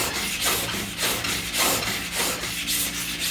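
Rhythmic rubbing strokes of a steel card scraper drawn back and forth across a sharpening stone, steady and close, about seven even passes with a gritty scraping texture and no voices.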